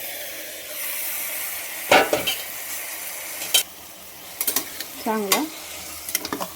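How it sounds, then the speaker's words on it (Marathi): Mutton mince (keema) frying over medium heat in a pan with pre-roasted spices, stirred steadily. A constant close hiss of sizzling carries scraping strokes of the spoon, and a voice speaks briefly. "2 मिनिटं तर चांगलं मध्यम आचेवर चांगला भाजून घ्यायचा आहे खिमा"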